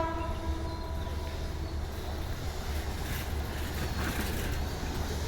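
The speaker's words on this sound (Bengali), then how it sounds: "তো ট্রেন চলে আসছে মাগরিবির আজানের সময় এই ট্রেনটি ঢাকা থেকে চলে আসছে" Steady low rumble of an intercity passenger train from Dhaka approaching along the tracks, with wind noise and a constant heavy drone throughout.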